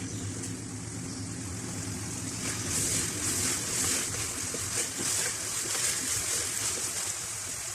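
Garlic and ginger paste frying with chicken in a street-style Charsi karahi gives a continuous hissing sizzle. It swells in loudness midway and sounds close, with no voices.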